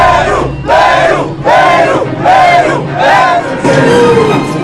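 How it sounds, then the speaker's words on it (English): A large crowd gathered in Lima for the Dakar 2018 podium ceremony roars for local hero Nicholas Fuchs, loud and close, rising in about five rhythmic chanting surges. "The biggest cheers reserved for local hero Nicholas Fuchs."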